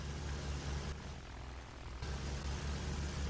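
Propeller bomber plane engine in Battlefield 1 on the Sinai map, a steady, loud droning roar that dips briefly in the middle before returning at full strength.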